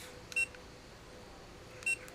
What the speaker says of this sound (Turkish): Bu menülerdeki bip, bipleme olayını kapatabiliyorsunuz